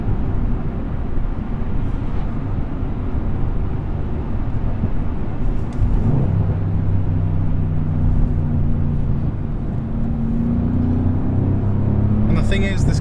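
Engine of a 2017 Mercedes C63S under way, a steady low rumble throughout with rising tonal harmonics in the second half as revs build, heard from inside the cabin.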